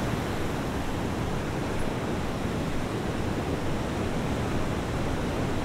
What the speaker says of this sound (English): Becoming one with the sound of the waves.